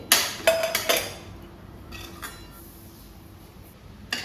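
Cooked ghol (purslane) vegetable being served from a pan into a dish, a few sharp metallic clinks and scrapes of a spoon against cookware up front, then quieter scraping and a final clink.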